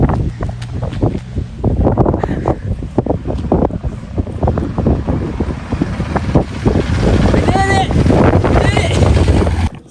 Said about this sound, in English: It is really windy right now.